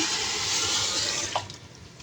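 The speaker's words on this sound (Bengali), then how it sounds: "এখন দিয়ে দিব পরিমাণ মতো পানি খিচুড়ি রান্না করার জন্য একটু পানি দিয়ে দিচ্ছি" Water is poured into lightly fried rice and lentils for a khichuri with rooster meat, a steady splashing pour that ends abruptly with a few drips.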